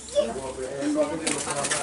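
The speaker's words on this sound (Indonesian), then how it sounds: "Tapi ini kebanyakan adalah perkutut." Zebra doves coo softly at a bird market, with a few gentle rolling coos heard faintly while people talk over them.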